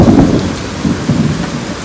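Heavy rain pours down with a low rumble of thunder, a loud, dense wash of sound with no talking over it.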